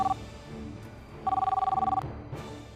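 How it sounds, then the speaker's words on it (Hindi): A telephone bell rings in short, rhythmic double-tone bursts, one brief ring and then a longer stretch, loud and close in a quiet office, with a faint later thump. "सर आपके लिए एसपी ऑफिस से फोन है"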